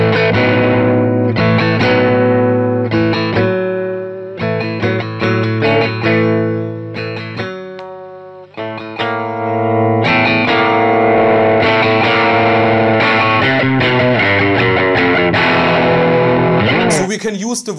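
Slick SL 60 doublecut electric guitar played through gain, with its volume pot rolled back partway to a cleaner tone; loud overdriven chords and licks, a short dip in level, then steady bright playing again.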